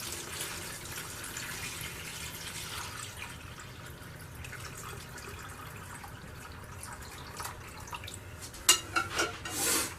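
Salt water poured into a container with a piece of steel, a soft wash of liquid running steadily, then a few louder splashes and sloshes near the end as it spills over.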